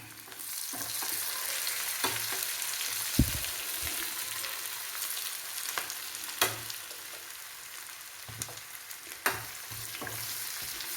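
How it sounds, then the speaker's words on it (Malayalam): Onions sizzle and crackle in hot oil, broken by a few sharp spatula clacks and stirring scrapes against the pan. "ഇതൊന്ന് നന്നായിട്ട് മൂത്ത് വറുത്ത് വരട്ടെ."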